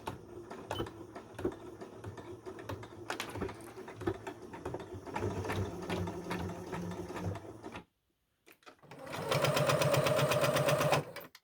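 A domestic sewing machine topstitches a fabric headband in a steady, close, mechanical run, pausing briefly before a faster, louder burst of stitching near the end.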